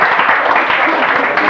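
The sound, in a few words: audience applause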